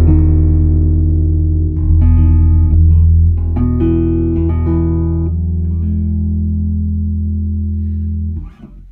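A bass guitar, a homemade P-bass with Bartolini pickups, plays a sustained major-seven chord through a Revsound RS410VT vertical 4x10 cabinet. Several ringing notes shift and layer over about nine seconds, loud and clean, with no talking.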